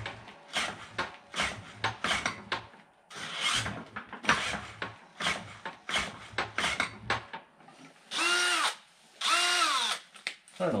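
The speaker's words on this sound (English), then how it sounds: "I don't know what's up with this drill." A battery drill is run on an old engine in two sharp whirring bursts near the end, each rising in pitch as it spins up, after a stretch of speech and clattering handling noises.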